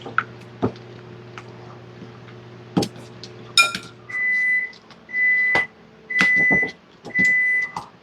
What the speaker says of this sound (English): That's our butter back there still melting and beeping.